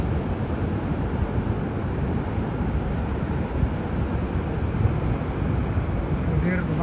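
Powerful ocean surf at Pangandaran beach, a continuous loud roar of breaking waves mixed with wind buffeting the microphone, steady throughout with no clear pauses.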